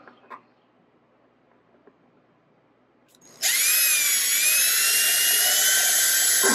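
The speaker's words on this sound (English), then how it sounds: "right there, I drilled a series of holes" A power drill starts after a quiet stretch and then runs loud, steady and close, with a high whine that holds for several seconds.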